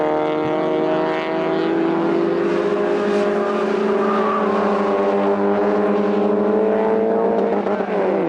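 Racing cars in the BRSCC Super Coupe Cup roar past on a lap, a loud sustained engine drone with shifting pitch as they pass near.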